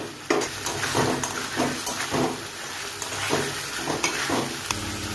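Spice masala being sautéed with fried potatoes in a pan for rohu fish curry: a steady sizzle with repeated stirring scrapes at an uneven rhythm, close and moderately loud, no talk.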